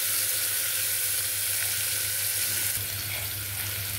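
Small chopped carrot pieces, added with green chillies and onion, sizzle and fry steadily in a pan, a constant crackling hiss with a low hum beneath and no talking.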